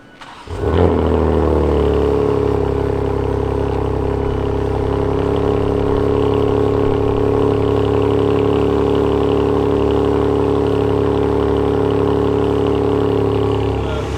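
A BMW G80 M3 with an aftermarket valved rear exhaust starts and then idles steadily with a deep, rumbling exhaust drone, loud and close, holding the same pitch throughout.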